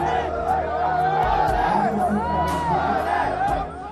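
A dense crowd of tourists and pilgrims at the Vaishno Devi temple in Jammu and Kashmir, a loud continuous hubbub of many voices with shouts and whoops rising over the babble throughout.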